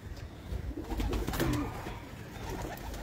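Pigeons coo softly in a loft of breeder and high-flyer birds, low throaty calls repeating at close range over steady background noise, with no talk.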